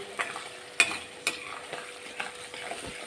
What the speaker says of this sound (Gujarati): થોડીક આપણે કસૂરી મેથી આ રીતની હાથથી વાટીને એડ કરીશું